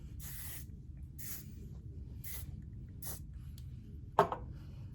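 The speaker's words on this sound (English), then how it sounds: "I like to add the J. Beverly Hills Shine, which is a really great reflective spray right here" A J. Beverly Hills Shine reflective spray is misted onto the ends of hair in four short, evenly spaced hissing bursts, followed by a sharp click or tap near the end.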